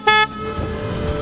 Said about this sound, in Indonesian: ini klaksonnya, dia klakson keong